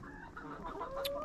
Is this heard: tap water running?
no